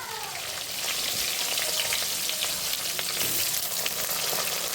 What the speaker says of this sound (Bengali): কড়াই বসিয়ে কিছুটা তেল দিয়ে প্রথমে আমি বেগুনগুলো ভালো করে ভেজে নেব